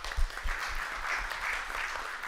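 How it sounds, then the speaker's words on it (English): A conference audience gives a round of applause for the speakers, a steady wash of many hands clapping at moderate distance, with a few sharper claps early on. "just one round of applause for our speakers, please"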